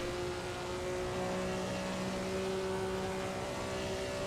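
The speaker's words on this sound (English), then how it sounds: "coming up to almost max speed in this car now. You can hear it in the revs." A Maserati 250F racing car at Monza in Assetto Corsa, its engine holding a steady high-revving whine near top speed, continuous and even throughout.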